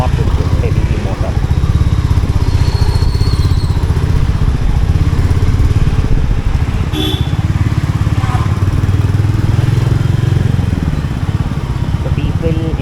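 A Royal Enfield Meteor motorcycle rides along a city road, its engine thumping in a steady, loud, low drone throughout, with someone talking over it.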